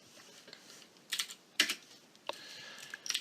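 Code is typed on a computer keyboard in a few quiet, close clusters of key clicks separated by short pauses, with no voices over it.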